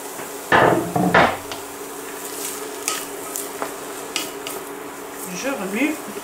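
Carrots being stirred in a cooking pot, with two loud clanks of a spoon against metal near the start followed by softer scraping and light knocks, close by.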